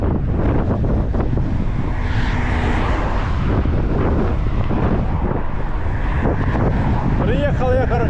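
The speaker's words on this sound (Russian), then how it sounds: "Ветер капец встречный" Heavy wind roars across the microphone on a headwind in Sudak, Crimea, a dense steady rumble lasting throughout, with a voice faintly under it and a brief warbling tone near the end.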